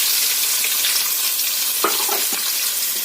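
Green chili, ginger and curry leaves fry with a steady, close sizzle in a pan while upma is being made, with a couple of sharp spatula scrapes near the end and no talk.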